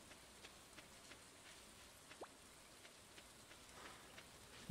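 Soft, steady rain in the video game Stardew Valley patters faintly, with scattered light drops and a quiet ambient hiss.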